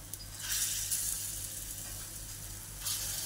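Wet lentil dumplings fry in hot oil, a loud continuous close sizzle and crackle holding steady throughout with no talk.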